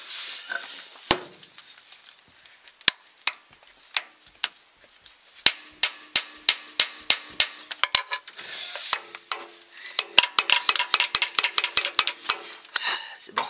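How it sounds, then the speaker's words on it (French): A hammer drives a chisel against a car's clutch assembly on a Peugeot 205, with sharp metallic strikes that start sparse and irregular, then speed into rapid bursts of ringing blows, close and loud. "Cette fois, j'ai ramené le marteau et le burin."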